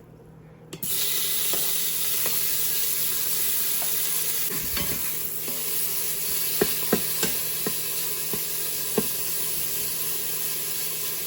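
Strips of bacon sizzle steadily in a pan with a little oil as the fat renders, a constant crackling hiss broken by occasional sharper pops and utensil taps.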